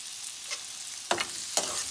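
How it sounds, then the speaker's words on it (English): Food seasoned with salt and black pepper sizzles softly in a pan while a spoon stirs it, with a couple of distinct scraping strokes over the steady frying hiss. "And then I'm gonna give this a stir."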